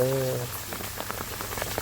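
Monsoon rain falls on a Punjab village in a steady, dense patter close by. A voice sounds briefly at the start.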